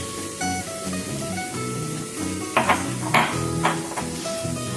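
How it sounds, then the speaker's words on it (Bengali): Ginger paste fries and is stirred in a pan, a steady sizzle under background music with a few sharp scraping clinks of the spoon against the pan near the end. "1/2 চামচ রসুনের পেস্ট দিয়ে এটাকে এবার ভালো করে একটু কষে নেব"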